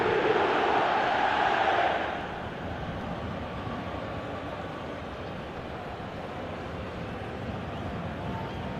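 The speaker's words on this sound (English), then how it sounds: "the crowd level has gone up a notch or 10" A football stadium crowd in eFootball 2025 swells loudly during a Monaco match, a dense roar that drops after about two seconds to a steady, broad crowd rumble.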